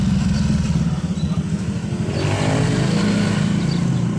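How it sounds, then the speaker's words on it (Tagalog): A motorcycle passing by outdoors, its low engine rumble droning steadily at moderate distance for a few seconds with no one speaking over it. "May motor anak, may motor."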